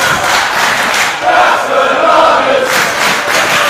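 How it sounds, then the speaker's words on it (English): A wrestling crowd in Brighton chants loudly and continuously, a dense roar of many voices with rising rhythmic swells. "Oh, that's a topical chant right there."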